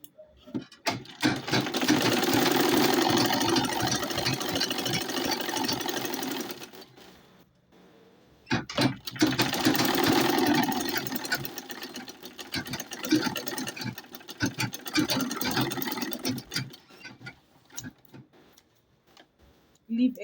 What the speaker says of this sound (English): I'm sewing